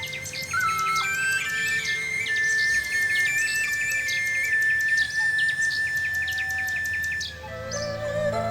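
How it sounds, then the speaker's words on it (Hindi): A bulbul sings a sweet, melodious song of clear, bright chirps and whistled phrases repeated in quick succession, close and steady, with no voices. "वहां से जाते वक्त उन्हें बुलबुल की मधुर आवाज सुनाई दी"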